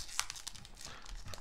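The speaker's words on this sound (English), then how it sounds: "We'll open the 2012 Jumbo hanger." A 2012 jumbo hanger pack of trading cards is opened with quick crinkling and tearing of foil wrapper, several sharp rustles close up over a second and a half, quiet, with no talking.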